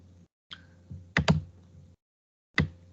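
Typing on a computer keyboard, a few sparse keystroke clicks and thunks spaced apart, close and fairly quiet, with no talking.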